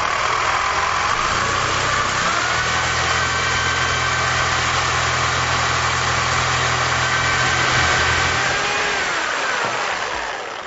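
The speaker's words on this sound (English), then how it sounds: "I'm going to fire it up and really just slice right through this" Reciprocating saw slicing through a threaded metal bar held in a vise, a loud, steady, unbroken buzzing drone lasting about ten seconds before tapering off.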